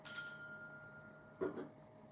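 A small handheld bell used in spell casting rings once with a bright metallic strike that fades, followed by a softer second tap a moment later, close and alone.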